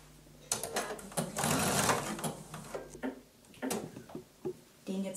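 A home sewing machine running a zigzag stitch on a beginner dress with set-in sleeves: close, rapid mechanical whirring and clattering in several bursts, with pauses between runs.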